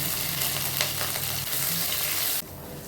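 Mustard seeds, cumin, pepper and green chillies sizzle in hot ghee in a pan, a steady dense crackling hiss that stays loud and close for most of the clip before dropping off sharply near the end.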